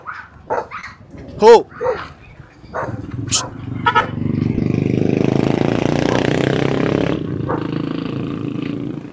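Aspin street dogs bark in short, sharp bursts at close range, several separate yelps, followed by a rising, sustained rumble like a passing motorbike, while someone shouts once amid the barking.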